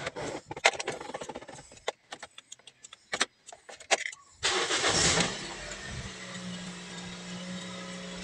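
A Toyota Vios engine cranks and catches after a battery repair, following a few light clicks and rattles, then settles into a steady, fairly loud idle with no talking.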